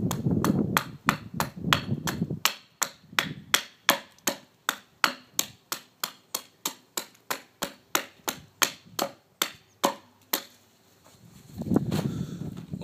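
A hand carving tool cutting into a wooden spoon, producing a long run of about twenty sharp, evenly spaced knocks close by, with softer scraping before and after.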